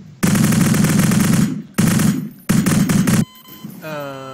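Gunfire in Garry's Mod Prop Hunt: loud, close bursts of rapid automatic fire in three runs separated by short gaps, followed by a brief tonal game sound.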